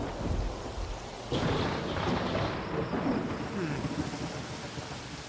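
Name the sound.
thunderstorm with lightning and rain in Tropico 4 video game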